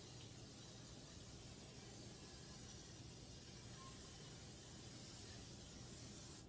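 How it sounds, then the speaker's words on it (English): A steady, faint aerosol hiss of cooking spray coating baking pans, running continuously for several seconds, with no talking. "first we're going to spray both pans with cooking spray"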